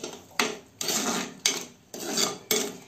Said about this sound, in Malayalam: ഇനി നന്നായിട്ടൊന്ന് മിക്സ്